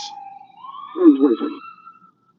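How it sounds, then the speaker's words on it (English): An ambulance siren wails with a rising tone, arriving at an emergency scene near a drive-through in Little Rock, with a burst of nearby voices or commotion over it. "I believe that's the ambulance. Yeah, here they come."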